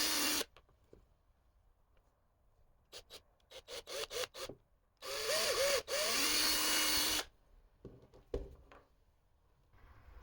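A drill bores holes into a fishing lure blank in short whirring bursts, several quick pulses followed by longer, louder drilling runs close by, with quiet gaps between.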